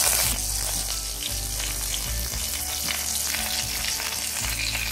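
Curry leaves sizzle and crackle loudly in hot oil after fenugreek seeds, a dense steady frying hiss with a few low thumps, close up and with no talking.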